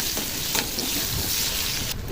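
Finely chopped onion sizzling in shallow oil with black cumin seeds, cooked for a hilsa curry: a close, even frying hiss with small pops and faint stirring, briefly dipping near the end, no voices.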